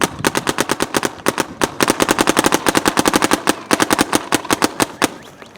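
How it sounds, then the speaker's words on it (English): An Etha 2 paintball gun fed by a Pal Loader fires rapid bursts of sharp, close pops in quick succession, with short pauses between strings of shots. "every time you hear the gun shooting, a ball's coming out"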